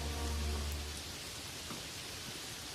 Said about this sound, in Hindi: थोड़ी बारिश भी हो जाती है